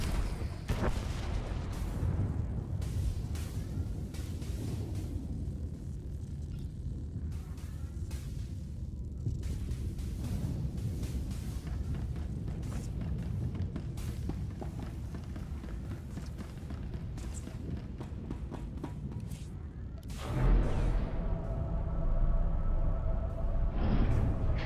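Enemy fire pounding a starship in SWTOR, a rumbling barrage of booms and blasts that rolls on continuously, then swells louder toward the end, with no speech over it.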